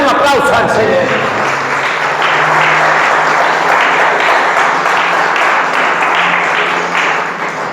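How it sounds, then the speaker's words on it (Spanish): Loud, dense applause from a church congregation honoring the Lord fills a reverberant hall, with a voice and some crowd noise mixed in over it. "Den un aplauso al Señor."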